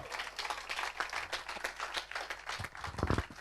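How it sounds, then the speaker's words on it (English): Audience claps for an award recipient at a human rights defenders awards ceremony, producing a dense run of overlapping claps with a few sharper hits, moderately loud and continuous throughout. "A big applause to Adhumani."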